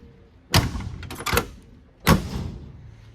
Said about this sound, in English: And this is the door that starts or closes fairly hard.